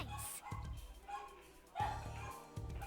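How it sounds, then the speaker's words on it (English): Pet dogs bark and yip nearby in a home during a game livestream, several sharp barks in quick succession alongside game sounds and a talking voice. "I know you guys can hear my dogs."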